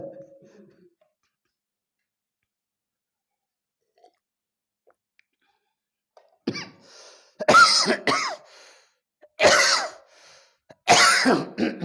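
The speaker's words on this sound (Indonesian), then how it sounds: "Sampai batuk banyak ketawa." A few loud, explosive coughs from laughing, in quick bursts after a long quiet stretch, close to the microphone, with no talking.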